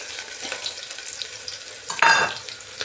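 Garlic and onion hit hot oil in a pan with cumin seeds for a pea and mushroom curry, giving a soft steady sizzle with light stirring scrapes and a sudden brighter crackle burst near the end.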